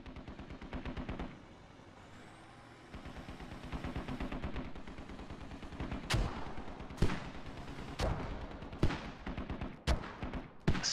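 Sharp gunshots from the video game Squad crack out over a steady mechanical drone and rumble, with several loud, spaced bursts in the second half.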